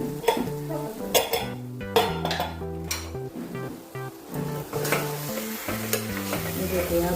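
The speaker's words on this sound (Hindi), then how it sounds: "अभी इसको हम 5 मिनट पकने देंगे, यानी थोड़े से आलू हम पकाएंगे।" Potatoes cooking in a pressure cooker for vegetable pulao, with close clinks and scrapes from a stirring spoon against the metal pot over steady background music and no talk.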